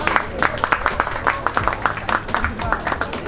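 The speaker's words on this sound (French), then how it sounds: "Sous vos applaudissements." An audience at a startup pitch event in Africa applauds a project being called up, a steady run of sharp, closely spaced hand claps with a few standing out, moderately loud and continuous.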